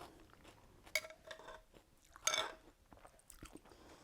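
Someone eating Lithuanian cold beet soup (šaltibarščiai) in summer, with a few soft chewing and slurping sounds close up and a louder bite or sip in the middle, no talking.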